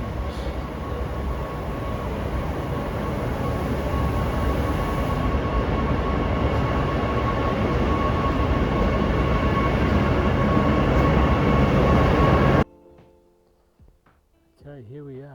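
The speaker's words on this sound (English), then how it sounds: "Beep beep, here comes the train." A train rumbles past close by, a loud steady roar of wheels and cars that cuts off abruptly near the end, leaving quieter background sound.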